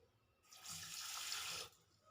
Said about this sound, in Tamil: இப்போ இந்த தண்ணி வந்து இந்த 1 கிளாஸ் தான் ஊற்றணும்